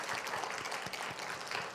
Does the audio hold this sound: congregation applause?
yes